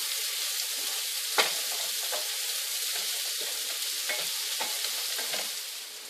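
Onions frying in butter with spices in a pan, a steady close sizzle broken by a few sharp utensil scrapes and clicks of stirring.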